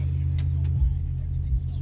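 A lifted Chevrolet Silverado 1500 pickup with a coilover conversion rumbles along with a steady low engine drone, heard from inside, with a couple of brief thumps.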